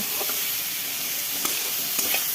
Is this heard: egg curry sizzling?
yes